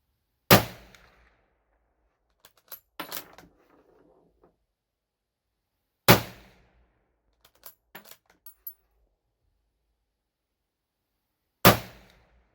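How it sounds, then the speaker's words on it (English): Mauser rifle shots fired at clay targets outdoors, three sharp loud cracks spaced several seconds apart, each followed by a short decaying echo, with faint clinks and handling noises between them. "Just shot low on those, but so yeah, Mauser did a good job."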